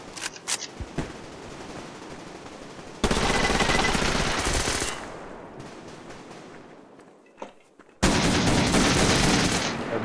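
Gunfire in the online shooter Survarium: a couple of sharp distant shots, then loud sustained automatic bursts that cut off abruptly, a quieter stretch, and another heavy burst near the end.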